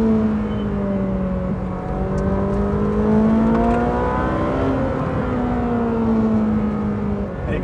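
A Ferrari 458 Speciale's engine held around 5,500 rpm in third gear, a steady, loud mechanical howl with rising and falling pitch as the throttle shifts, with no talk over it.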